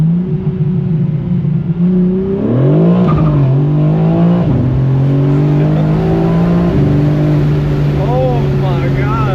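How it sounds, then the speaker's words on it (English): A 2023 BMW M4 CSL accelerates hard through a pull, engine note climbing steadily then dropping briefly at each gear change before rising again, loud and close throughout. "we're gonna do a pull or two and then some revs"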